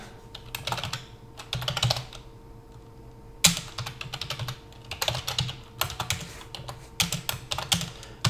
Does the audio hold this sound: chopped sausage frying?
no